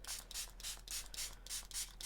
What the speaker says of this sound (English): I'm spraying this with water